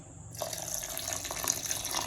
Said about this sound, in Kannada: ಇವಾಗ ನಾನು ಸ್ವಲ್ಪ ಒಂದು ಗ್ಲಾಸಷ್ಟು ನೀರು ಹಾಕ್ಕೊತೀನಿ